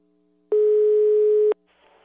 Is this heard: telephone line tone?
yes